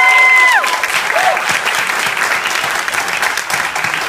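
Audience applause at a Fantastic Four cast Q&A, a loud, dense burst of clapping from a crowd that holds steady throughout, with a brief voice at the very start.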